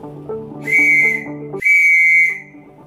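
Two long steady whistle-like Morse dashes for the letter M, one after another with a brief gap, sounding over a layered musical backing.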